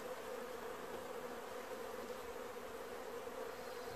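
Honey bees at an open hive in Newfoundland make a steady, soft drone that stays constant and close for the whole stretch, with no talking.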